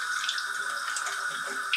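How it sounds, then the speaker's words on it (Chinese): A mango seed is rinsed under running tap water, giving a steady, continuous hiss of flowing water close by, with faint splashing shifts as the seed moves through the stream. "我们要用水把它冲洗干净"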